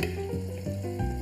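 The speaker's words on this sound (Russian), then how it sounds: "Добавляем эти овощи прямо в мясо." Vegetables lightly fried in oil tip into lamb already sizzling in a wok, giving a loud, steady frying hiss with soft stirring shifts throughout.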